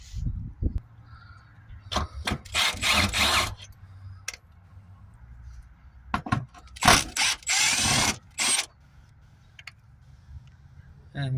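Power tool bursts, likely an impact driver, backing 10mm bolts out of a plastic cover on a Peugeot/Citroën/Ford DPF additive tank; several short whirring runs close by, separated by pauses and clicks.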